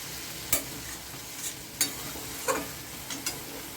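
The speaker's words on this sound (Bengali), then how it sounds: "মাছটাও আমার ভালোই সেদ্ধ হয়ে যাচ্ছে" Dried fish and ridge gourd curry cooks in a pan, with a low steady sizzle broken by a few sharp scrapes of stirring, close up and without talk.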